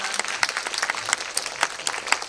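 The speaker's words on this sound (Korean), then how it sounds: "저희 박수 한번 부탁드리겠습니다" Audience applause at a Korean film screening Q&A for 12.12: The Day, a steady patter of many hands clapping with a few sharper claps standing out, moderately loud and continuous over the whole stretch.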